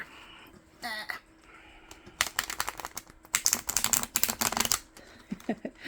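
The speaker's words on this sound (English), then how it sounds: "so I may have trouble riffle shuffling it" Close, crisp fluttering crackle of a deck of cards being riffle shuffled, in a couple of rapid bursts separated by brief pauses.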